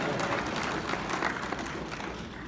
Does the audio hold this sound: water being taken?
no